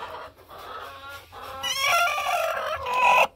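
A hen in a nesting box clucks at someone drawing near, a few soft low clucks building into a louder, agitated squawking cackle, close by and with no talking.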